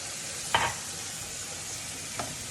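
A vegetable stew with potatoes and a splash of hot water is mixed in a pot over a soft, steady simmering hiss. Two light spoon knocks are heard.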